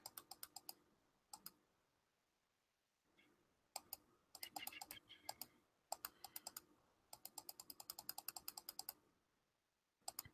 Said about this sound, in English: Probably hear me clicking.